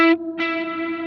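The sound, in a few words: Line 6 Helix Heliosphere delay repeat with reverb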